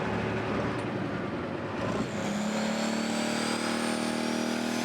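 The G-Force pulling tractor builds boost at a tractor-pulling event, its engine roaring loud and steady, then rising into a sustained climbing rev with a whining pitch.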